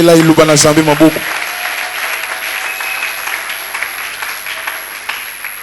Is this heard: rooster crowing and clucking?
no